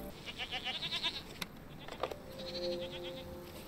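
Goats bleat in the farming game SEASON: A Letter to the Future, several wavering calls in the first second and again near the end, moderately loud over soft background game ambience.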